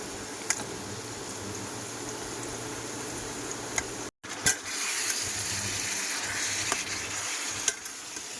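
Boiled potatoes frying in a pan, a constant sizzle with occasional spoon taps and stirring scrapes; the sound briefly drops out midway, then resumes slightly louder.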